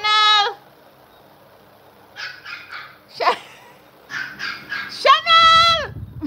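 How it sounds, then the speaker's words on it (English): A white Pomeranian puppy gives a run of high, yappy barks and whiny yelps in short bursts with pauses between them, close and loud. "Hear my puppy, hear my puppy."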